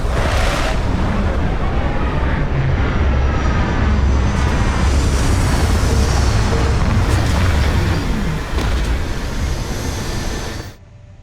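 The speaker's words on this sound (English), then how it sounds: "Landing struts primed. Retros firing." Spaceship landing with retro thrusters firing in the Starfield video game, a loud, sustained roaring rumble of engines holding steady for about ten seconds before cutting off abruptly near the end.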